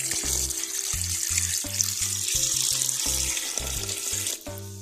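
Water pours into a pressure cooker while chicken shami kabab is being made, a faint steady trickle and splash under a constant low mechanical hum that stops briefly near the end.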